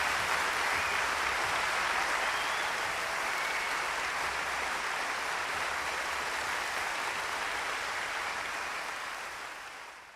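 Steady, dense applause from a large crowd mixed into a music track, loud and unbroken for about ten seconds before tapering slightly at the end.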